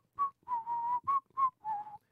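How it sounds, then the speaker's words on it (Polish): Calm, melodic whistling by a single person, a short tune of about six clear sustained notes with brief pauses, close and fairly quiet, no other sounds. "skupić uwagę na spokojnym gwizdaniu przy sprzątaniu podwórka"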